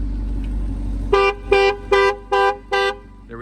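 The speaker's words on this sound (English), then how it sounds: "There we go again with the beeping." A 2019 Ferrari Portofino in Verde British Racing sounds its horn in five evenly spaced, steady beeps after a brief idle-like rumble, close and loud with no one speaking.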